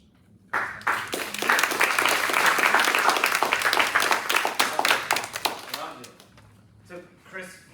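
Brisk, close room applause follows a speech at an evaluation workshop, holding steady for about five seconds before thinning into a few last claps and quiet voices.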